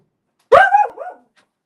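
A single sharp, close dog bark with a brief whining tail, standing alone against silence before and after.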